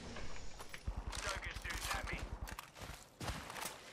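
Video game gunfire rattles in a rapid automatic burst of evenly spaced shots, then scattered single shots, moderately loud with a voice talking over parts of it.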